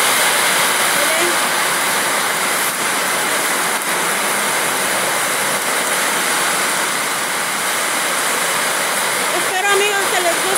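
Heavy rain pouring down outdoors, a dense, loud, unbroken roar of water close by for the full length, with a voice briefly heard near the end.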